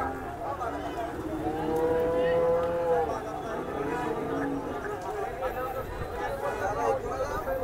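Cows moo at a busy cattle market in Sangola, one drawn-out low call rising early on over steady crowd chatter and people talking nearby.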